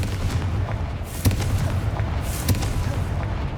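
Confringo fire spell explosions in the video game Hogwarts Legacy, two sharp booming blasts over a constant loud rumbling game backdrop, each impact brief and punchy.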